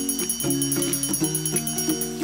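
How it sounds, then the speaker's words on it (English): A rapid, repeating electronic beeping pattern like an alarm clock ringing, pulsing evenly for a couple of seconds. "Mom said to come home when the alarm goes off."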